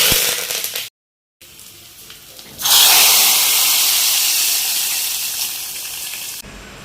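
Mustard seeds, dried chillies and crushed garlic hit hot oil for a Kerala sambar and set off a loud, close sizzle that starts suddenly and slowly fades, after a brief quieter hiss.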